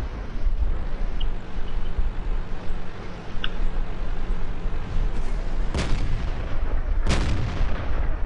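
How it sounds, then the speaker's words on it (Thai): Tank cannon fire in the World of Tanks video game during a tournament match: two sharp booming shots near 5.8 and 7.1 seconds, heard over a dense, steady game soundscape with low rumble. "อยู่ข้างบนก็ยิงเอายิงเอาคุณปัญญานะฮะ"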